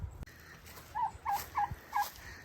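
Farm turkeys gobbling in a rapid series of four short, nasal calls, moderately close, with a brief knock and faint outdoor noise before them.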